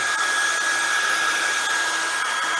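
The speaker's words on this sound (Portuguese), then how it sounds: "vou fornecer energia agora através de um secador de cabelo" A hair dryer blows steadily at close range, heating a gas piston in a physics demonstration, its even whirring hiss with a thin whine running unbroken throughout.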